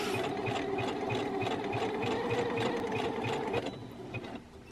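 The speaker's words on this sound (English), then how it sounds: "there's a lot of sewing on this bit" A sewing machine stitches stretch knit fabric for a dress, giving a steady fast mechanical chatter with a regular needle rhythm. It runs close and fairly loud, then slows and eases off near the end, with no talking.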